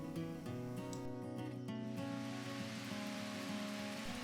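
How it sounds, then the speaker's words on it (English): Afternoon rain falling over a Japanese indigo crop, a steady dense patter that holds throughout over a constant low hum. "Oh, and then we got this beautiful rain this afternoon, so this makes me very happy."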